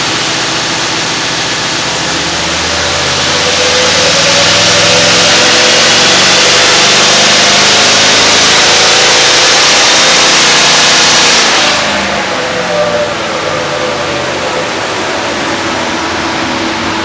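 A car engine on a dynamometer, tested for power output with different tyre sizes, climbs from a steady drone into a loud sustained high-rev roar for several seconds, then drops sharply back to a lower hum.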